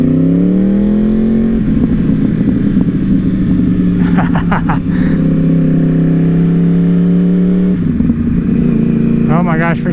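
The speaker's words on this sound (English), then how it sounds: "By far the best mod so far is that Toast exhaust." Yamaha R1 sport motorcycle with a Toast aftermarket exhaust, loud and close, its engine droning and rising through revs in city riding, with a rider talking briefly over it.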